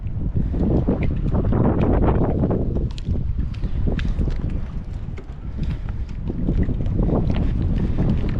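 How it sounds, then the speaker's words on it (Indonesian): Strong wind gusting at a harbor with moored boats in a Japanese village, heard as loud, rumbling wind buffeting the microphone, surging and easing throughout with no one speaking. "Ini dikarenakan anginnya ini cukup kenceng ya teman-teman ya."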